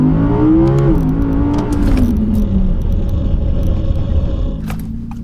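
A 2020 Audi R8 V10 Performance engine revs up sharply then pulls through the gears, a loud, rising mechanical wail that dips and climbs again before easing off toward the end, with no talking over it.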